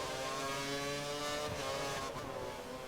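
Formula 1 race cars from the game F1 2013 at Bahrain, engines droning steadily at high revs with harmonic whine, a brief shift or surge midway, continuous and close.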